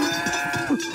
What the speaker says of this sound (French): Ici, on est obligé de les surveiller pour si jamais il y a des combats, s'il y a des vaches qui viennent en chaleur.